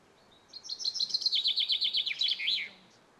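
A small bird on Porquerolles island sings a fast, high twittering phrase of rapid repeated chirps lasting about two seconds, clear and fairly close against quiet background.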